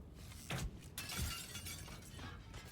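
In Baldur's Gate 3, an object breaks apart with a couple of brittle crashes followed by a scattering, crackling tail over a noisy game background.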